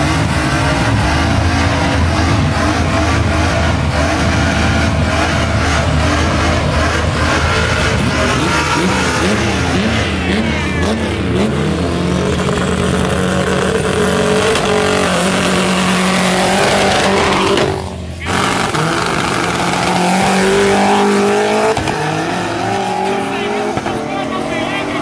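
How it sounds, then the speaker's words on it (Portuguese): A Chevrolet Opala four-cylinder turbo race car roars at a drag racing event, the engine loud and sustained as it accelerates, with tire squeal and crowd noise while people talk over it. "Aqui, um dos carros mais rápidos de hoje, Opala 4 cilindros turbo"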